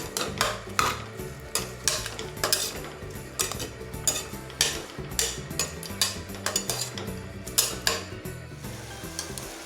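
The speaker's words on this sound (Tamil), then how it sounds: "காய்கறி கொட்டிட்டு நல்லா அதையும் வதக்கி எடுத்துக்கோங்க." Vegetables for veg pulao being stirred and sautéed in a pan, a series of sharp metallic spatula scrapes and clinks against the pan at an irregular rhythm, close and fairly loud, with no talking.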